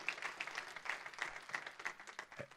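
Congregation clapping in church in praise of the King of Glory, a steady run of sharp, rhythmic claps at moderate loudness, fairly even throughout and without talk.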